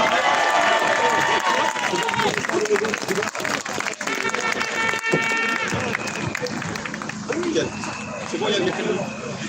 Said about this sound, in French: Faites un tonnerre d'applaudissements pour Alexandre Achard.